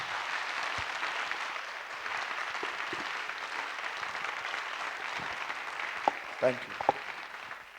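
A congregation at a prayer meeting in Chandigarh claps together in a steady, moderately distant burst of applause, with a voice speaking briefly near the end.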